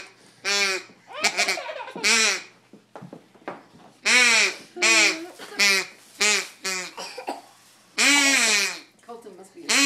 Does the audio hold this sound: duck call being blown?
yes